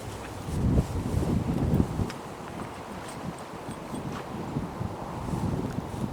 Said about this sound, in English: as you can hear, it was so windy a day